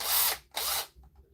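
A cordless drill fitted with an M12 battery whirs loudly in two short bursts of running, each cutting out abruptly, followed by a faint mechanical click.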